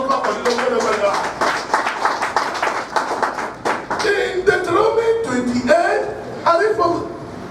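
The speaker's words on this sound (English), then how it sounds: "Clap for Jesus. Clap for Jesus." A church congregation clapping along at a Sunday service, with brisk, fairly close claps running under a loud preacher's voice.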